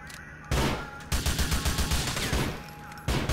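Bursts of gunfire from the video game GTA The Lost and Damned, loud clustered volleys of shots in several rapid bursts with brief gaps between them.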